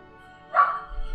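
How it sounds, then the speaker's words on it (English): A single muffled bark from a dog outside, heard at a distance through the walls over a steady low hum, with nobody speaking. "there's a dog barking outside"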